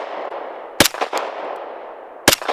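A Sig P320 pistol fires Tula ammunition outdoors: a few sharp, loud cracks, spaced irregularly over steady background noise, with no talk.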